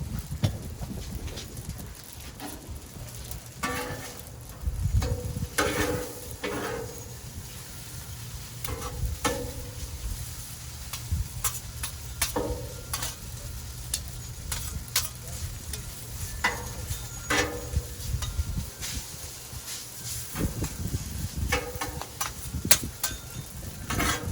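Oil and beef sizzle on a hot Blackstone griddle in a steady, dense crackle, with the scrape and clatter of a spatula tossing the meat throughout.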